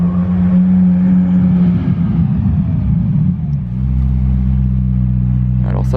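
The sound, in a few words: McLaren Senna car driving past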